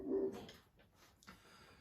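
A dog barks upstairs in a house, a few short muffled barks heard from another floor, fairly faint and with no talk over them.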